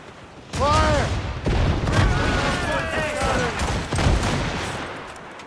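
Ship cannons fire in an Assassin's Creed Rogue naval battle, a run of heavy booming volleys close together over a loud roar, with shouted voices calling out between the blasts.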